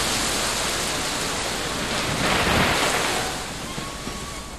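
Heavy rain with gusty winds during an unseasonal storm in Telangana, a steady broadband roar of downpour and wind buffeting the microphone, swelling louder midway, with no voices.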